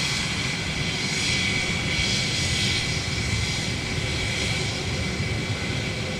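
A jet airliner passes close by, heard from a plane-spotting position as a loud, steady roar of engine noise that swells slightly and holds throughout.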